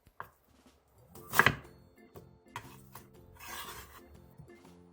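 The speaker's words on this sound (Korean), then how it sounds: "양파 4분의 1개를 큼직하게 잘라주세요." A knife cuts a quarter onion into large chunks on a board, giving a few crisp, close chops with a louder burst of scraping in the middle, with no talk.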